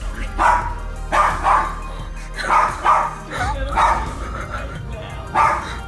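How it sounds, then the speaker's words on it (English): A dog barks repeatedly in pairs of sharp, loud barks with short pauses between, close by and fairly insistent. "their dog started to bark at the dark corner in their house"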